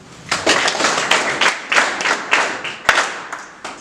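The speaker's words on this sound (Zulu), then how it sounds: "Socela nje sishayile ihlombe ukuthi ubaba uMntungwa ukwazi ukuba ingxenye yalomcimbi namhlanje" Audience at a cycling association ceremony clapping in a short round of scattered applause, a few dozen hands at close range, uneven rhythm and moderately loud, without talking.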